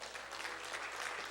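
Steady applause from a church congregation at an Easter service, dense and even throughout, with no voices standing out.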